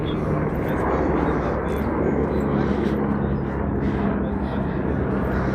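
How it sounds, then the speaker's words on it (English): A helicopter drones overhead as a constant broad rumble above the coast at La Jolla, California, holding steady throughout with a slight whirring texture. "See, the helicopter could be going on a tour."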